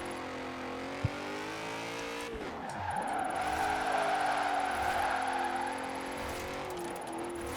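BMW X5 family SUV driven sideways in Forza Horizon 4, its engine droning steadily with loud rising revs and a sustained tire skid through the middle, easing off toward the end, with a short sharp tap near the start.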